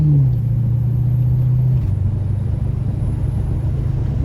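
A car accelerating hard with the pedal floored as its transmission shifts from third to fourth gear, a loud steady engine drone that drops in pitch at the shift and carries on smoothly.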